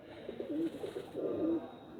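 Domestic pigeons kept as fancy breeds coo softly in two short throaty phrases, close by and fairly faint, with no talk over them.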